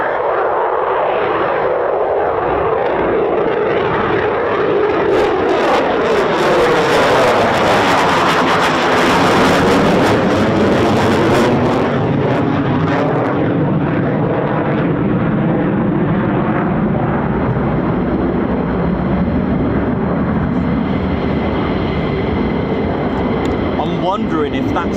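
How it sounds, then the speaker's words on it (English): An F-15 or F-35 fighter jet taking off at RAF Lakenheath, its engines producing a loud, sustained roar that swells and sweeps in pitch as the jet passes, with people talking underneath. "That was a takeoff. I forgot, we got takeoffs."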